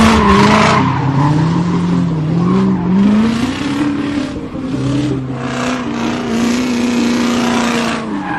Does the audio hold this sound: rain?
no